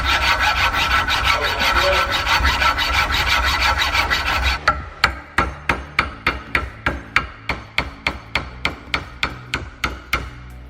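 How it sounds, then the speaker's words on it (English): A hacksaw cuts through the metal sleeves of old Honda Civic EG suspension bushes, first as a dense continuous rasp, then as a steady run of about twenty sharp, evenly spaced strokes, close and loud with no talking. "Two minutes with a fucking hacksaw."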